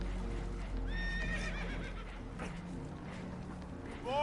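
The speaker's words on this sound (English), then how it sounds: "Horses are spooked." Spooked horses whinny in a Red Dead Redemption 2 scene, with a couple of shrill, wavering neighs up close over a low rumbling background. A final neigh rises near the end.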